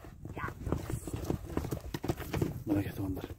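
A horse's hooves clip-clop in a quick, uneven rhythm as it runs, close by and mixed with people talking.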